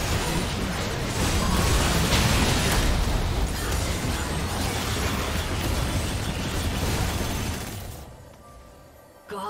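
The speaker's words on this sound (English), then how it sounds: "Red team's turret has been destroyed." A turret destroyed explosion in League of Legends, a loud rumbling blast with crackling debris that sustains for several seconds, then fades before a short new sound at the end.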